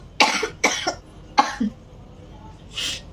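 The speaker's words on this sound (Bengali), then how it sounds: "ভীষণ কাশি হয়েছে" Several harsh coughs from a person with a bad cough in an air-conditioned room, three strong bursts spaced about a second apart with a softer throaty follow-up, close and loud.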